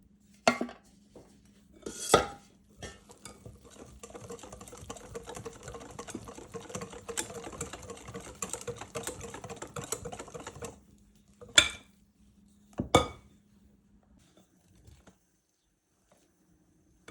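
A whisk beats cake batter in a bowl, a quick, continuous metallic rattle lasting several seconds, framed by a few sharp knocks and clinks of the utensil against the bowl before and after.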